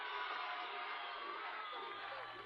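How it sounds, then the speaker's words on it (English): A Zimbabwean crowd at a Central-South Africa hockey qualifier cheers a converted penalty flick, a broad, distant roar of voices that holds steady throughout. "And Diaz sends it into the bottom left-hand corner with a cheer from the Zimbabwean crowd."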